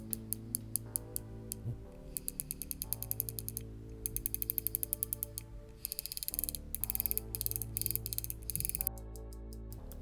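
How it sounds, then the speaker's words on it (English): Aperture ring on a TT Artisan 50mm f/1.2 lens turned through its detents, giving rapid runs of crisp, close mechanical clicks in bursts with short pauses, over a steady background hum. "this aperture ring that does these satisfying ASMR clicks, not too loud but not too silent"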